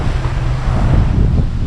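Sea waves strike the hull of a cruise ship at sea. A close, loud, blustery rush and low surging water roar fills the short moment, with heavy wind buffeting and no talk.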